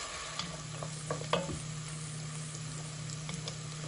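Carrot and onion softening in a pan with salt and pepper, a steady low sizzle running throughout with a few soft stirring scrapes near the start, fairly quiet and close, with no talking.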